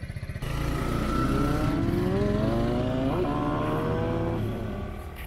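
A 2021 Kawasaki Z125 Pro motorcycle revs up and accelerates through the gears, its engine note climbing steadily in pitch, loud and close with no talking.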